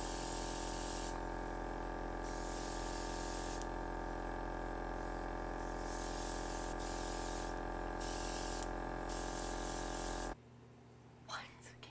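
An airbrush kit sprays blush makeup with a steady hissing pump drone that runs for about ten seconds, then cuts off abruptly.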